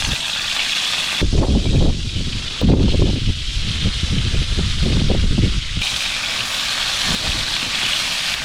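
Strong wind roars across an exposed mountain top at a solo campsite in Khyber Pakhtunkhwa, Pakistan, a loud continuous buffeting rush with heavier gusts surging and easing, no voices over it.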